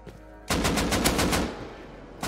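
Automatic gunfire in the survival game Rust, a loud rapid burst of about seven shots in quick rhythm after a quiet lead-in, with one more shot cut off at the very end.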